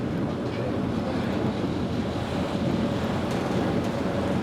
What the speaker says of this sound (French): Du côté de la mer d'Iroise, en Bretagne, la tempête fait toujours rage.